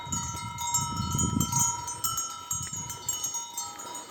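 Four-month-old lambs and sheep move about on a muddy, rainy farm, with a soft bleat or two, bells tinkling and light shuffling, all fairly faint and distant.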